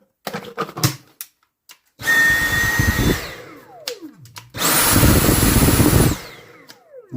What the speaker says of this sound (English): the Dyson is running as good as new